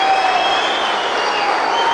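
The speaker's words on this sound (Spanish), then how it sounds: "el que vino a Rojas, ha reconocido, aplaudido, ha recibido de la mejor manera a estos dos boxeadores" A boxing crowd at a fight night in Rojas applauds two boxers with dense, steady clapping that fills the whole stretch, with a thin whistle-like tone riding above the crowd noise.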